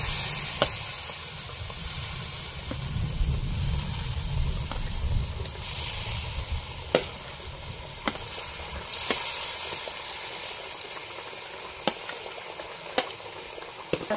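Eggs fry in a spiced curry seasoned with turmeric and salt, with Ol yam and potato in the pan. A steady, close sizzle and hiss runs throughout, broken by sharp clicks of a spoon stirring against the pan.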